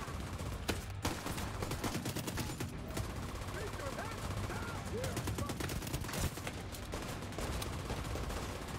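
Rapid gunfire in the Division 2 video game, bursts of automatic shots and scattered single rounds rattling continuously under a dense, busy mix of in-game effects.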